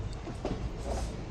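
The Jalna to Parbhani festival special train 07664 rolls along the rails, a close, steady rumble with rhythmic wheel clatter heard from on board.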